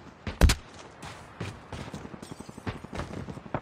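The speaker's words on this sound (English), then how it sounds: "Kiri ni ada gunshot." Gunshots in the mobile shooter Call of Duty Mobile, with one loud nearby crack followed by a scatter of fainter, irregular shots.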